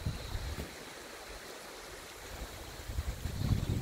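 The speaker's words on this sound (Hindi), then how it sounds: "और जो रिवर का पानी है वो देखिए आप, एब्सोल्युटली क्लियर" River water flows beneath a bridge near Shera village in Arunachal Pradesh, a soft, uneven rushing wash with low rumbling surges at the start and end, heard without voices.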